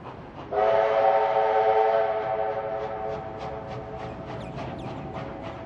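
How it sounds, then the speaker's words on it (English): Heritage steam locomotive 3642 leaving Sydney Central Station, a loud sustained whistle blast followed by rhythmic chuffing exhaust beats that build as the train pulls away, with no voices. "3642 from Transport Heritage New South Wales is seen here pulling out of Sydney Central Station"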